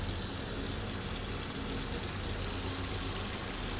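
Water pouring into a container in the Autopsy Simulator video game, a steady, loud, hissing gush that fills the whole stretch evenly with no breaks or voices.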